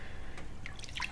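A hand stirs soapy water in a basin, giving soft drips and small liquid splashes close by over a steady low background, with no talk.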